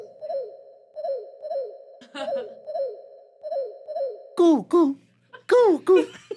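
A voice imitates a parakeet's song, with a run of short, evenly spaced chirping calls followed by a few louder, sweeping whistled notes. The sounds are close and stand alone.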